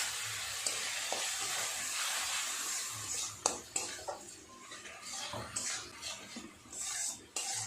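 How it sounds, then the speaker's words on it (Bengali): Spices sautéing with a little water in a pan for a taro and shrimp dish, a moist hiss and bubbling with intermittent spatula scrapes and clinks, close and fairly loud. "অল্প একটু জল দিয়ে মশলাগুলোকে খুব সুন্দর করে কষিয়ে নেব।"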